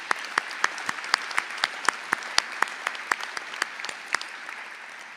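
Commencement audience at Pine Technical and Community College claps for staff and student volunteers, a fairly sparse, moderately distant applause with distinct individual claps standing out in a steady rhythm, no talking.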